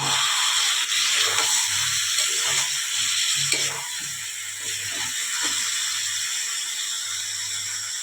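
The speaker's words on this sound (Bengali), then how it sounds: "এটাকে চারপাশে একটু নেড়ে ভালো করে কষিয়ে নিচ্ছি" Potato and cauliflower frying in oil in a pan, a steady close hiss and sizzle with repeated scraping and clinking of a spoon stirring the vegetables, no talking.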